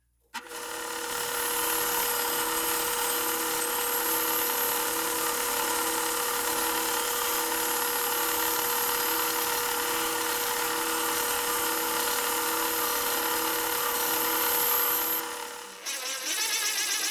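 Bandsaw running steadily while cutting out a semicircle in wood for a portable drill press guide, a loud even whine with a pulsing hum that starts abruptly and winds down at the end.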